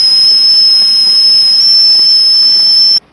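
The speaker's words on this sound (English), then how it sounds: "just waiting for the kettle to boil so we can have a cup of tea" A kettle on a camping stove gives a loud, steady, piercing whistle as it boils. The whistle holds unbroken for about three seconds and then cuts off abruptly.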